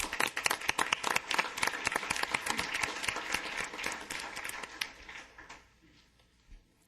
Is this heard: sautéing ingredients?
no